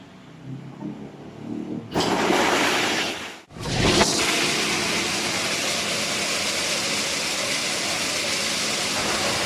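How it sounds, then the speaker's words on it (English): A peanut shelling and peeling machine with a built-in blower starts up, giving a steady, loud mechanical rumble and whir that runs on continuously after a brief dip, with no talking. "we need to press the button start to start peeling"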